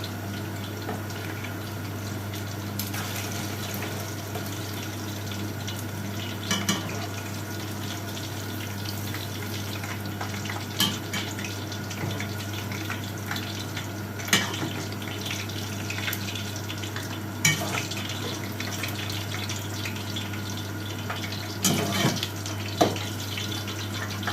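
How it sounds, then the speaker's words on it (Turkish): Eggplants fry in oil for moussaka with a steady, even sizzle and bubbling at moderate level, broken by occasional soft clicks and taps. "patlıcanlarımız da kızarıyor arkadaşlar"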